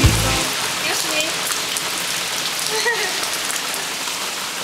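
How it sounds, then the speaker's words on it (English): Steady rain pours onto surfaces beside a street-side restaurant in Bali, a dense continuous hiss with scattered drips close by, and a faint voice sits briefly under it at the start. "I've run into some rain"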